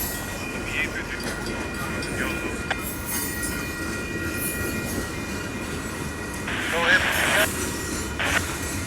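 A freight train rumbles steadily past the Fondren Rd and S Main St crossing in Houston, Texas, with a WCH Type 2E crossing bell ringing. Brief wheel squeals rise over the continuous roll, and someone talks faintly.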